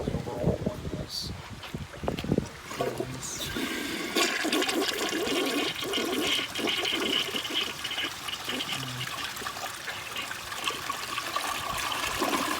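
A vintage 1986 Kohler Wellworth toilet flushing, a loud close rush and swirl of water that runs steadily and ends in a gurgling drain, with no voices.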